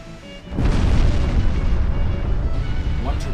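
A battleship fires a heavy gun salvo in the naval warfare game Ultimate Admiral Dreadnoughts, a deep booming blast that swells and rumbles on for a few seconds.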